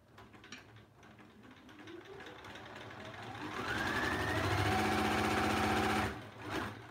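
A sewing machine stitching a quilt block starts slowly, then runs up to full speed with a loud, steady, high-pitched whirring hum before stopping abruptly near the end.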